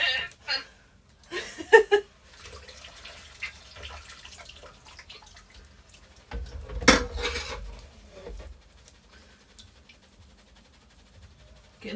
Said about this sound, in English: I am dishing up, yeah.